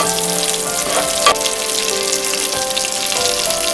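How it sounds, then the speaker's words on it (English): Cumin and mustard seeds sauté in hot oil with a steady crackling sizzle and a few louder pops, over faint tonal background sound. "add cumin seeds and mustard seeds. Saute it for half minute."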